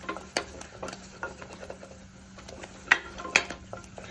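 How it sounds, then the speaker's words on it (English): Churro flour paste being beaten in a pan until smooth: a series of close, irregular knocks and scrapes of the utensil against the pan, a few of them sharper, with no voices. "We want to cook this out and we want to beat this till there's no lumps left."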